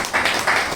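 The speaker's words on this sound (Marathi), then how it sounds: "नक्की टाळ्या होऊ दे त्याच्यासाठी" Audience applause at a lecture event: a dense wash of clapping from a crowd, with two swelling bursts within a brief span and no voices over it.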